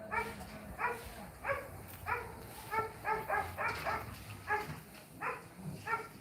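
A dog barks repeatedly in a steady rhythm, about a dozen short barks, at a moderate distance and fairly quiet.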